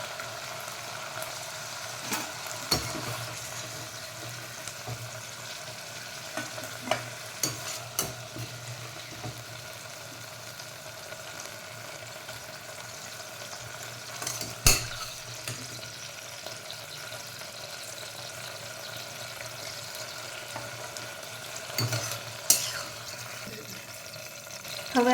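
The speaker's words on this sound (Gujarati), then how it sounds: "હવે ગુવારને શેકે 5 મિનિટ થઈ ગઈ છે।" Guar beans (cluster beans) dry-roast in a pan for about five minutes, giving a steady low sizzle broken by occasional scraping stirs and clicks, with no talking.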